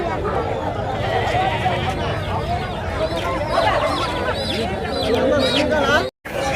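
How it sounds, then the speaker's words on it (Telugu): Country chickens and chicks at a busy village market, clucking and squawking all around, with people talking loudly over the birds throughout. "చాలా ఎక్కువ వచ్చాయండి కోళ్ళు"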